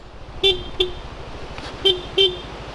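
A car horn honks four times, short toots spaced irregularly, loud and close over a low idling engine.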